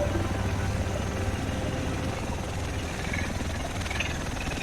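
A helicopter arrives in the video game The Division, set in Manhattan, its steady engine and rotor drone loud and continuous throughout with no pauses.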